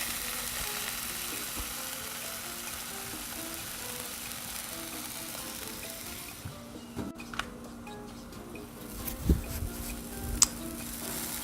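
Blood sausage, or morcilla, sizzles and crackles steadily on a hot Blackstone griddle. The frying stays constant and close throughout, with a few sharp taps and scrapes near the end and no talking.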